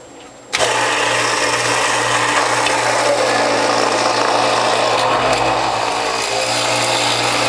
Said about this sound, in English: what I'm going to do is shred the beet root